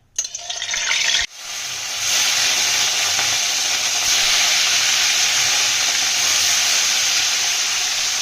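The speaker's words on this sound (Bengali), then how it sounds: "হালকা করে মাছগুলো ভাজবো একটু কড়া করবেন মাছগুলো" Katla fish frying in mustard oil in a kadai gives a loud, steady sizzle and hiss that starts after a brief pause and runs on without talk.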